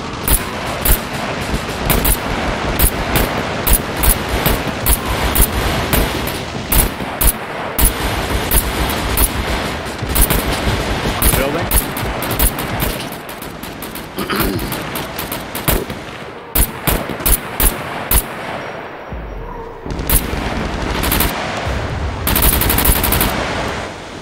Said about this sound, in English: that one is shooting the other currently